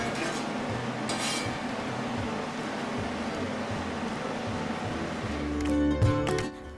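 Chicken and vegetables are stirred in a pan for a dinner wrap, with soft scraping and occasional clinks of a utensil against the pan over a steady low background hum, getting slightly louder near the end.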